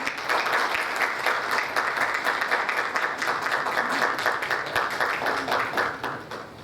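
An audience at a Korean-American community gathering in Atlanta gives loud, sustained applause to welcome State Representative Matt Reeves, a thick, close crowd clapping that holds steady and then tapers slightly at the end.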